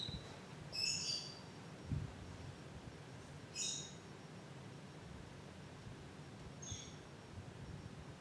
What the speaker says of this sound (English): I apologize for the bird in the background.